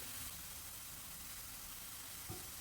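Grated carrots sauté in oil in a pan, giving a steady, even sizzle and hiss that runs alone throughout, with one brief stir near the end.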